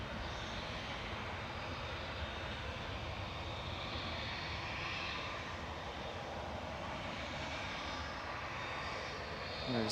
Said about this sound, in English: 2E from Cancun is also another Dreamliner just pushed back.